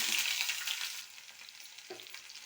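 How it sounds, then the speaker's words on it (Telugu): Mustard seeds, dried chilli, onion and garlic fry in hot oil in a kadai, giving a soft, fizzing sizzle that fades slightly, with a couple of faint stirring knocks near the end. "రెండు నిమిషాలు బాగా ఫ్రై చేసుకున్నాం"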